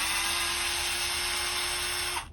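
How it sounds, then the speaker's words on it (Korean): A cordless electric screwdriver backing Phillips screws out of the plastic cover of an electrical wall socket, a steady high motor whine running close and unbroken for about two seconds before cutting off suddenly. "이렇게 전동 드라이버를 이용해서 2개를 풀어보겠습니다"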